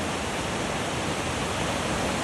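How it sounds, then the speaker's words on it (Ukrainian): A mountain river flows beneath a small suspension bridge, a dense, steady rushing roar of water with no breaks, loud and close. "Така річка."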